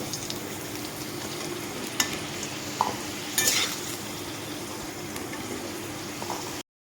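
Pointed gourd (potol) frying in a pan of oil, with a continuous crackling sizzle and occasional metallic scrapes and knocks from stirring, close by with no voices.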